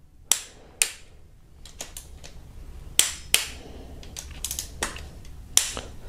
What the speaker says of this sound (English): Louder click now, more torque.